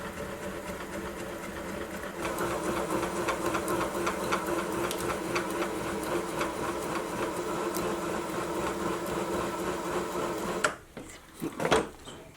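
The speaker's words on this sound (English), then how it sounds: "And to house the lead screw, I'm going to counterbore about halfway down." A lathe counterboring a hole partway down to house a lead screw, a steady close machining drone with faint rhythmic ticking that runs for about ten seconds, then drops off into a few brief clunks.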